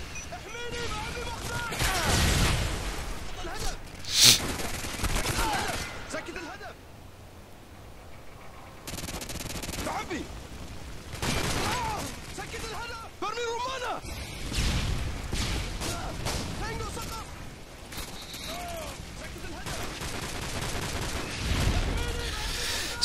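A-12 shotgun fired in Call of Duty: Modern Warfare 2 on the Scrapyard map in Demolition mode, with repeated heavy blasts among scattered gunfire and explosions, while a commentator talks over much of the action.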